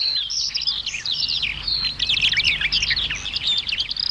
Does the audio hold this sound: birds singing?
yes